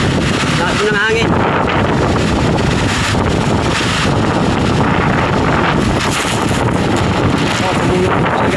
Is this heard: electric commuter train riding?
no